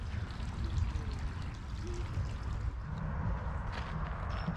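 Water pours and trickles steadily from pipes, a continuous low rushing flow with faint splashes, unbroken throughout.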